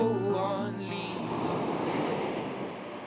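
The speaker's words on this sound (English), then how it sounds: "It's so nice to enjoy the sea for once." Sea waves wash against the coast in a steady hissing surge with gusty wind noise, following a brief musical passage that fades out at the start.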